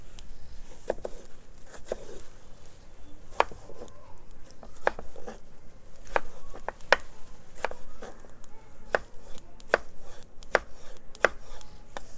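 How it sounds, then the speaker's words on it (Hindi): Tomatoes being finely chopped with a knife on a board, a brisk series of sharp close taps in an uneven, quick rhythm over a quiet background. "2 अदर टमाटर ले लेंगे और इनको हम बारीक चॉप कर लेंगे।"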